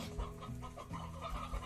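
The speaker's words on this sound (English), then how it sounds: "Chickens." Chickens cluck in the farming video game Slime Rancher, a busy run of short, close clucks and squawks over steady game ambience.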